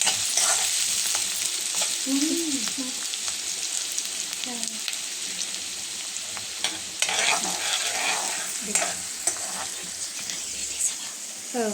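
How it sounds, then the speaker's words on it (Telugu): Onions and ginger garlic paste fry in hot oil for pasta, a continuous crackling sizzle with spatula scrapes and clinks against the pan, and a brief murmur of background voices. "కాగిన నూనెలో ఆనియన్స్, జింజర్ గార్లిక్ పేస్ట్ వేయి"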